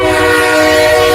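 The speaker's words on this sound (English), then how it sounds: "Another train!" A loud, sustained train horn blast with a rich stack of harmonic tones, played as a sound effect with a low rumbling underneath, alone and close.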